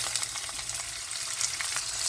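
Onions and spring onions fry in a pan for banana curry, giving off a dense, continuous hiss of sizzling with faint stirring underneath.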